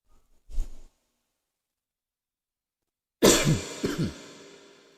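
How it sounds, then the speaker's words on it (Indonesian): A short throat-clearing cough, then after a pause a louder burst of several harsh coughs, close and alone. "Gak apa-apa batuk ya, tapi jangan ditiru di rumah."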